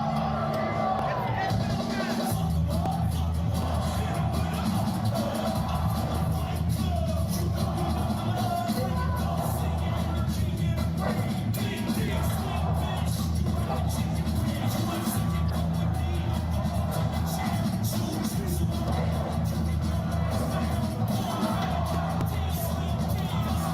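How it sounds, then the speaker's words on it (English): A wrestling show crowd at the opening of the event fills the space with continuous cheering, shouting and babble, a dense, steady roar with occasional whoops over booming arena sound. "if you wanted to get an idea of what it's like in the crowd to watch part of the opening of the show"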